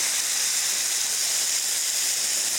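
Tomato puree hits a hot pan and sets off a loud, continuous broadband hiss, steady and close for the whole stretch with no pauses or voices.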